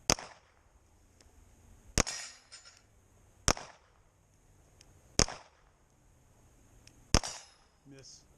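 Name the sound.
pistol shot at target practice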